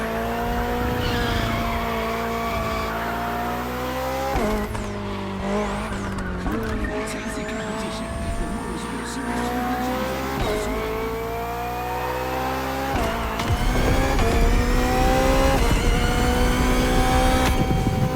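A BMW hybrid V8 race car roars through a race in The Crew Motorfest, its engine note rising and dropping through gear changes with tire squeals and skids, loud and continuous alongside a steady music bed.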